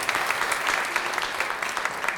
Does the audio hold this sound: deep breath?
no